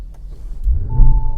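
A Lamborghini Urus Mansory engine starts with a deep low rumble that swells over a second, with a thin whine rising alongside it, close and loud.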